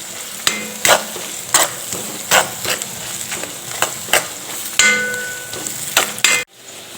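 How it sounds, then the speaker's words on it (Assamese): A spoon stirs salt and turmeric through food frying in a pan, with repeated scraping strokes every half second or so over a steady close sizzle. "পৰিমাণ অনুযায়ী নিমখ হালধি দি লৈছোঁ আৰু ঘনে ঘনে লৰাই থাকিম।"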